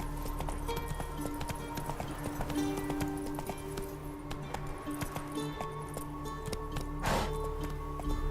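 Roach, the horse in The Witcher 3, clip-clops in a rapid steady gallop, hooves thudding close and continuous with occasional jingling tack, while game sounds and a brief voice-like swell rise near the end.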